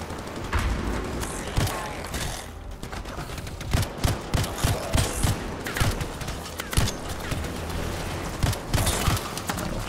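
Rapid bursts of gunfire from the video game Anthem crackle through a dense, busy mix, with sharp shots repeating in quick uneven clusters at close range.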